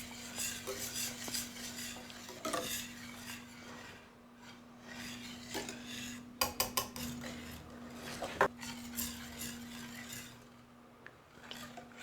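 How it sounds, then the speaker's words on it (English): Heavy cream and Parmesan pasta sauce stirred in a pan, a utensil scraping and rasping steadily against the metal with occasional sharper clinks, close and alone without talk. "be sure that you're stirring fairly frequently, because this does have heavy cream in it"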